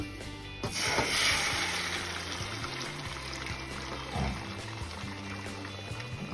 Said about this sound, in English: I'm gonna go ahead and pour the eggs in here